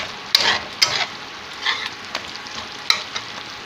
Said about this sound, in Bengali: একটু ভালো করে নেড়ে নিলাম, জিরে বাটাটাকে